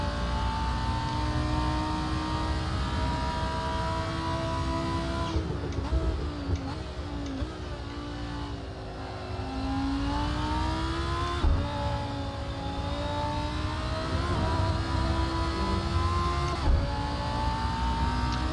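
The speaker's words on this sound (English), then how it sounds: "Just gonna let the engine over rev a little bit for those two corners" A Lamborghini Huracan Performante in Assetto Corsa at Monza revs high and steadily, the engine tone holding near the limiter and then dipping and rising through gear changes, continuous and loud with no talk.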